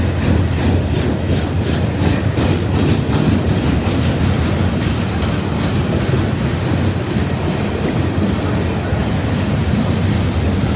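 An Ashland Railway short line freight train rolls past in northern Ohio, its cars clattering loudly and steadily with rhythmic clickety-clack over the rails for the whole stretch, close by and continuous.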